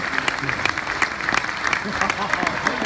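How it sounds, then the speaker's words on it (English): Applause from a fan-festival audience in Sydney, quick distinct claps under a host's voice talking over them. "Give her a round of applause."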